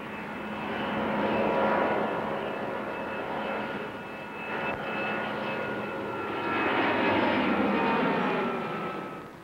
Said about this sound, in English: The A310 lifts off into its element.